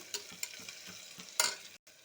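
Onion and green chillies fry for veg fried rice with a soft, close sizzle, broken by several spatula strokes scraping the pan and a louder burst near the end.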